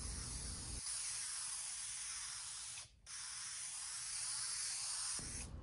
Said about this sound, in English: here I am putting on a coat of fast-drying spray polyurethane